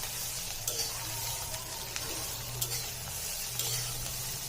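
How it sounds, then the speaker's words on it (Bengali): Bitter gourd and potato frying in a pan over medium heat, a steady close sizzle with occasional light scrapes and clicks of stirring. "আপনি মাঝারি আঁচে এটাকে নেড়ে নেবেন।"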